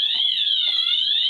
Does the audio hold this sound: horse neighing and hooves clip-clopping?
no